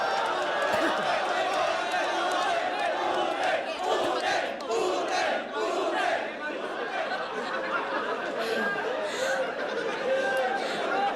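A live crowd at a Filipino rap battle cheers, shouts and laughs in loud continuous waves, dense chatter and rowdy chanting filling the whole stretch.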